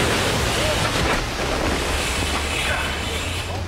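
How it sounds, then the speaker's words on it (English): Large ocean wave crashing broadside over a boat at sea, a loud continuous wash of surf and wind noise with no clear break throughout. "Suddenly, violently, a 2-story wall of water caught them broadside."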